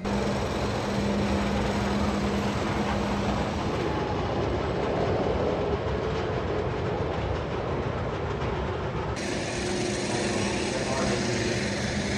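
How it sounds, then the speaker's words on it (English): The Nitro roller coaster at Six Flags Great Adventure rumbles along its track with a constant loud roar and clattering wheels, wind tearing across the microphone, and voices faintly underneath. "we're gonna go do a ride or two or however many on Nitro"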